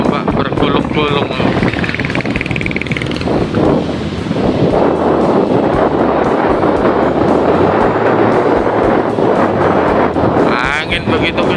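Strong gusting wind buffeting the microphone beside rolling, crashing waves on the beach at Kemantren, Paciran, Lamongan, loud and continuous, with someone talking over the roar.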